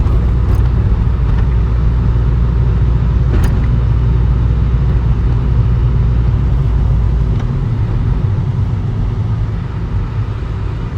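Car interior rumble while driving, a steady loud low engine and road drone with light hiss above it and no talking.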